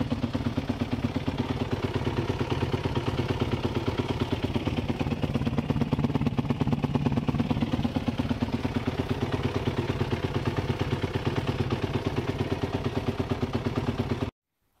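A 2011 Yamaha WR450F motorcycle engine runs at a steady idle, a close, rapid, even chugging that continues unchanged for about fourteen seconds before cutting off abruptly at the end.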